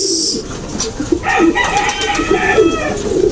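Pigeons in a loft coo and flutter close by, overlapping soft cooing calls with some brighter bird notes and light background noise.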